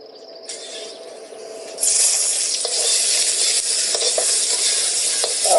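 Red chillies, four or five pieces, hit very hot oil with a sudden loud crackling sizzle that jumps up partway through and then holds steady and close, with no voices.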